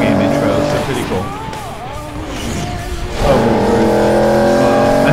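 Cars racing in the James Bond Quantum of Solace video game, engines droning loudly with tire squeals and skids throughout, a roar building after a brief dip, with voices talking over the top.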